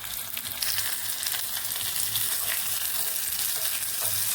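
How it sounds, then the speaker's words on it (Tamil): Mustard seeds and urad dal sizzle and crackle in hot oil for a savory kozhukattai tempering, a steady loud frying hiss with scattered pops throughout. "எண்ணெய் சூடாகிடுச்சு. நான் கடுகு போட்டுட்டேன்."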